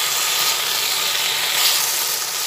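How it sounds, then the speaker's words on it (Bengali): Flat bean curry with coriander leaves cooks in a pan, a loud, dense, even sizzle that holds steady throughout, with no voices. "আবার একটু ভালোভাবে নাড়াচাড়া করে নিচ্ছি"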